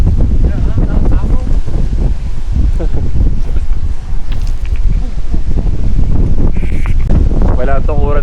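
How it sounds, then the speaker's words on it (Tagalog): Strong mountain wind on a twisty ride at Malico buffets the microphone with loud, continuous rumbling gusts, while a person talks over the roar. "Sobrang lakas ng hangin."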